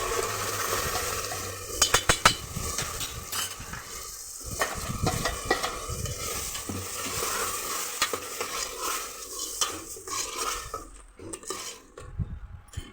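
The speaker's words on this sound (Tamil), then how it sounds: "இப்போ நம்ம அரைச்சி வச்சுருக்கோம் அந்த பேஸ்ட் இதோட ஆட் பண்ணிடலாம்" Ground paste cooks with onions for a mutton masala, the pan sizzling under irregular scrapes and metallic knocks of a ladle stirring, with a few sharp clanks.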